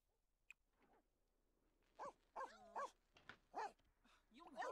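A hungry dog whimpers and gives soft, whiny, hoot-like yelps in a short series that grows louder toward the end, heard close in a quiet room.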